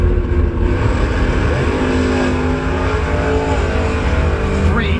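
Mustang and Camaro drag cars at Bradenton Motorsports Park rumble loudly at the line before the launch, engines droning steadily with a rising rev near the end, under a track announcer's voice.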